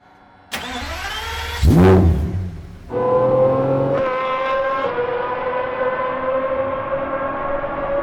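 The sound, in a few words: Pagani Zonda supercar AMG engine revving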